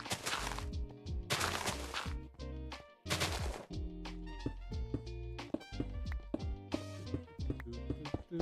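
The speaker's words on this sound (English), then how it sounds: "See, that's just fireworks." Minecraft fireworks bursting in a string of sharp pops and booms, some with crackling tails, irregularly spaced over a layered game soundscape and fairly loud throughout.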